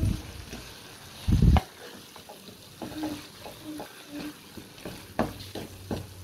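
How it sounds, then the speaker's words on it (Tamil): Potato masala being stirred and mixed in a pan on a low-flame stove: a continuous soft sizzle with repeated spoon scrapes and clinks against the pan, close and moderately loud. "இப்போ நம்ம உருளைக்கிழங்கோட மசாலா எடுத்து சேர்த்து நல்லா வந்து மிக்ஸ் பண்ணி எடுத்துப்போம்"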